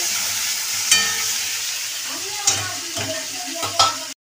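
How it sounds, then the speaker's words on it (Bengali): Potatoes with onion and chilli fry with ridge gourd in a pan, a continuous sizzle broken by repeated spatula scrapes and knocks against the metal, loud and close, before cutting off abruptly. "ভালো করে ভেজে নেবে।"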